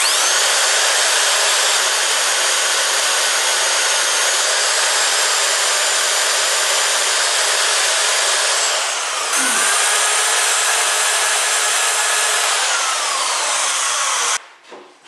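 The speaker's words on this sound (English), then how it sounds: "I'm going to use a power file for this." Power file sanding and shaping the curved corner of a wooden skirting board, a loud continuous abrasive whine close by that wavers slightly in pitch and cuts off abruptly at the end.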